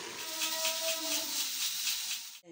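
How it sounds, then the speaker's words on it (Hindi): A kitchen pressure cooker holding potatoes and fenugreek lets off steam in a loud sustained hiss with a pulsing whistle, cutting off abruptly at the end. "जैसे ही इसमें स्टीम बनी है तो 1 से 2 विसल आई हैं"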